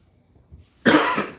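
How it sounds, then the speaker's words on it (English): A single harsh cough bursts out close and loud after a near-silent pause, trailing off within half a second. "Something that's making me cough."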